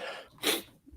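A single sharp sneeze bursts out close by, preceded by a short breathy intake and followed by quiet.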